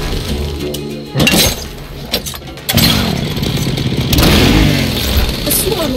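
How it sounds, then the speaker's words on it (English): Leatherface's chainsaw in the Mortal Kombat XL fighting game, loud bursts of revving engine noise starting after a brief pause, cutting in and out and then running continuously under game voices and effects. "A chainsaw? That's subtle."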